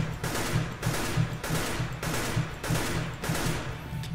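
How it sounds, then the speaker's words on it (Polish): Bursts of rapid rifle fire from Counter-Strike: Global Offensive, several volleys in quick succession with brief gaps between them, loud and close. "te strzały są już bardzo, bardzo celne"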